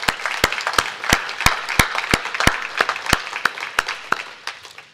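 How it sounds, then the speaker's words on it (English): An audience at a housing-policy breakfast forum claps for the sponsors, sharp distinct hand claps ringing out in an irregular pattern and tapering off toward the end, fairly close and clear. "Let's have a round of applause for all of our generous sponsors."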